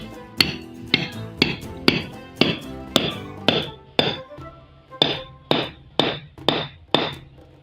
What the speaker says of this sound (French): Ceci se fera via un marteau ou une lancette que voici.